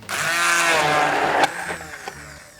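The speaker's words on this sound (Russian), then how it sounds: "И еще раз блендерим." Blender whirring through a tartar sauce of pickled cucumbers, parsley, dill and garlic, a loud steady motor whine that cuts off about halfway, leaving a few clattering sounds as it winds down.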